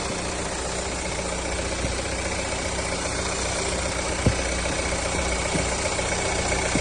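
A 2012 Kia Sorento engine idles steadily up close, a constant mechanical hum and drone with a faint rhythmic tick and one brief clunk partway through, with no talking.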